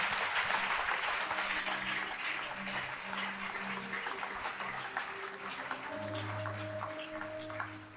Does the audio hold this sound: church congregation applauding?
yes